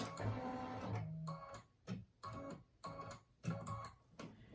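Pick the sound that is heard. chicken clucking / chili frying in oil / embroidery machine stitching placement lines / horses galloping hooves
embroidery machine stitching placement lines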